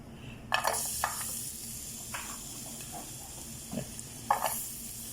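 Garlic frying in oil in a pan at home, a soft continuous sizzle broken by several scraping stirs and clinks of a spatula, with faint background noise.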